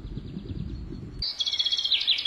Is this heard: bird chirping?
yes